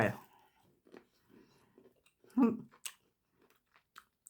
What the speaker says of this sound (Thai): วันนี้ได้กินฝรั่งนะฮะ